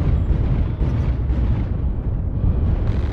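A destroyed mech explodes in the MechWarrior Online video game as a loud, continuous, rumbling blast that roars steadily for a few seconds with heavy low-end boom.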